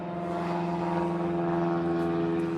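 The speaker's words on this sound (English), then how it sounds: "Little float plane flying overhead." Float plane droning overhead near Powell River, a steady propeller hum with strong tonal harmonics holding level throughout, moderately loud and unbroken, no voices.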